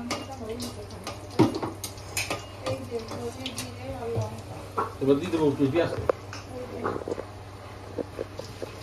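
Dried red chillies tossed into a pan of cumin seeds and stirred with a metal spoon in a home kitchen, giving soft scraping and clinking against the pan under steady talking nearby.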